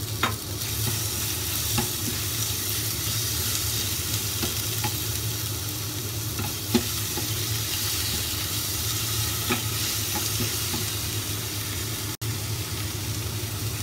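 Minced pork frying in hot oil in a wok for a Hong Kong style mushroom soup, giving a steady, dense sizzle close by with scattered pops and a few soft utensil taps, no talking.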